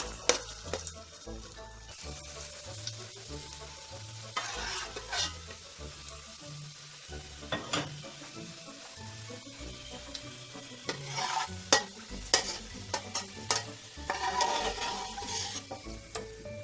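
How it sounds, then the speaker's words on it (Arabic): A large onion frying in oil in a big pot, with steady sizzling broken by repeated stirring scrapes and clanks, moderately close, with no talk. "في حله كبيره فيها زيت هنضيف بصله كبيره"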